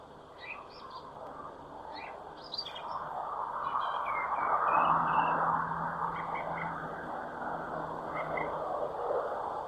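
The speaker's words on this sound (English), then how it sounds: "Song thrush, early evening, April 25th, 1969." Song thrush singing in early evening in late April, its bright repeated phrases over a steady broad background hiss and low rumble, moderately distant.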